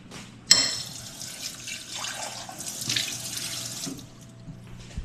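Water running from a tap, a close, steady splashing stream that starts with a sharp gush and continues with shifting gurgles as it pours.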